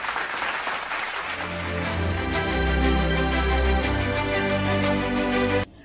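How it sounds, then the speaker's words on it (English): Loud, sustained audience applause at a maritime awards event honouring a ship's crew for heroism, a dense clapping crowd under what sounds like tonal music or a bright musical backing, swelling steadily before cutting off abruptly. "A big round of applause for their heroism."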